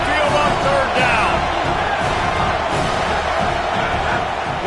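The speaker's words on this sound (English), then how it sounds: "The Tide crowd rolling noise down on the Saban field on third down." Roaring stadium crowd at an Alabama Crimson Tide football game on third down, a dense, steady wall of cheering and shouting that holds loud and unbroken throughout.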